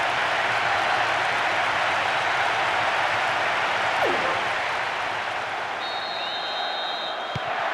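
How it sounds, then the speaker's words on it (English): Steady broadband crowd roar from a stadium in the PES 2009 (Winning Eleven) football game on PS2, cheering continuously and loudly throughout with a brief swell midway, no commentary audible over it. "The crowd's on its feet with excitement and appreciation."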